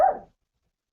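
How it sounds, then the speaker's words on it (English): A single short dog bark, sharp and close, cut off abruptly into silence during a live podcast. "No, that was my dog."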